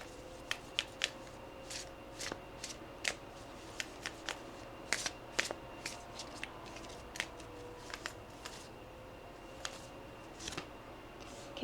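Tarot cards are shuffled by hand in a quiet room, with repeated crisp riffles and soft card snaps scattered irregularly throughout, close and fairly faint.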